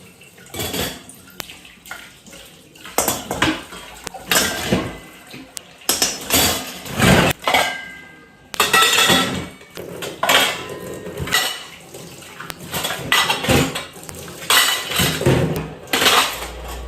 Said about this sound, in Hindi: तो ढेर सारे बर्तन वॉश हो चुके हैं।